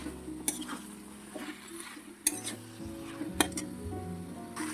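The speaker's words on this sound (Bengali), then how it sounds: "পুঁই শাকটা দিয়ে আমি খানিকক্ষণ কষে নেব।" Malabar spinach sizzles and fries in spiced oil in a pan, stirred with several clinking utensil strikes against the metal amid a continuous crackle.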